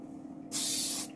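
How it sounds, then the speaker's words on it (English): A short burst of Got2b Glue hair spray from a small can, one steady hiss of about half a second, close and loud against a quiet room, used to set a styled hairdo. "get my tiny got2b glue spray and just setting it."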